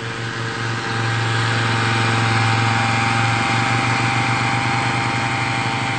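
A small engine powers a blower that throws feed across a freshwater prawn pond. It drones steadily and loudly at close range, holding one constant hum for the whole stretch.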